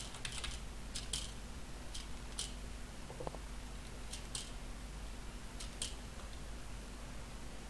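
A defective computer keyboard's space bar clacks in short sharp bursts at irregular intervals over a steady low hum.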